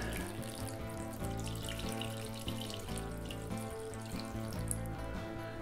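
Mushroom soaking liquid pours into a cast iron Dutch oven, giving a continuous splashing, gurgling stream of water that stays steady and close throughout.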